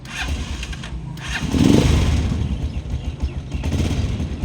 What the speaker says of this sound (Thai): อันนี้คือสตาร์ทติดแล้วนะคะ